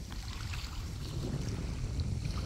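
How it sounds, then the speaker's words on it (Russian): A motorboat engine on a reservoir, a continuous low rumble at a moderate distance, mixed with wind buffeting the microphone. "Нет, это моторка."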